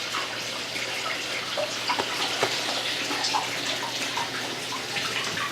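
Water drifts over the exposed roots of plants in an indoor hydroponic garden, a steady soft trickle and wash with faint drips, close and continuous with no voices.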